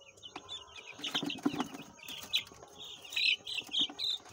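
Chickens clucking close by in a village yard, a run of short bright calls and chirps repeating irregularly over a low murmur of farmyard background, with no talk.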